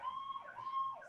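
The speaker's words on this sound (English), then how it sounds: "Sirens." Emergency sirens outside, a wailing police-type tone rising and falling, heard faintly through a window in a brief burst with no talking over it.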